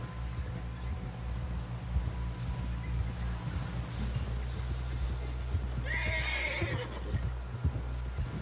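A horse in the video game Red Dead Redemption II whinnies once, briefly, over a steady low rumble and background noise, with faint hoof-like thuds scattered throughout.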